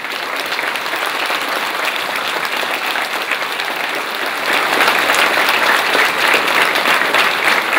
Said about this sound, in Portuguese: Saudemo com a calorosa salva de palmas.